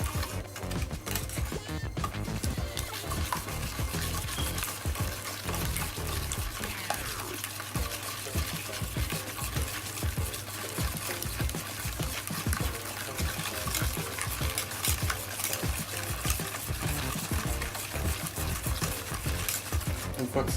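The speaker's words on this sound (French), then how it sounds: "on vient y ajouter les œufs. Pareil, on remue jusqu'à temps que ce soit voilà," Eggs stirred into a lemon tart filling, a steady wet sloshing and scraping of a utensil in a bowl that keeps going in quick repeated strokes, close and fairly loud.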